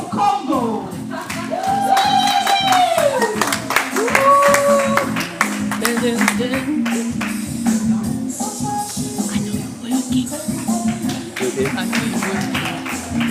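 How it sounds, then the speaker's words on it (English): An audience at a high tea fundraiser claps its hands in a dense, steady patter that continues throughout, with a voice speaking and sing-song calling over the clapping. "Clap hands for Democratic Republic of Congo."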